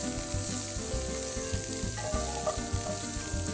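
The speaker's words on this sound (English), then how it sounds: "I want to get both sides seared." Tofu sears loudly in a hot pan, a steady close sizzle and crackle of frying with occasional stirring clatter, no talking over it.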